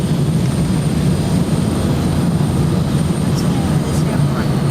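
A Continental airliner comes in to land at Gatwick Airport, heard from inside the cabin as a loud, constant low engine and air roar with no clear voices above it.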